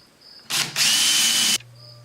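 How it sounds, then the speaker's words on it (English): A power drill whirs loudly for about a second, revving up briefly, pausing, then biting steadily through wood before stopping abruptly. "So I just need to drill some holes."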